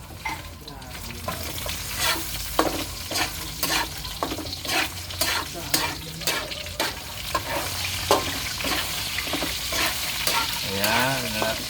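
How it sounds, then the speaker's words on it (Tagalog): Food being stirred in a frying pan, with repeated scraping strokes of the spoon over a steady close sizzle of hot oil, in an irregular rhythm. "Smooth na smooth ho ang ating paghalo."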